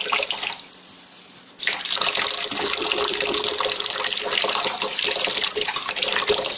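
Water pours from a water-from-air machine at about a quart a minute. A quiet pause gives way to a sudden, steady splashing stream that runs on close and clear to the end.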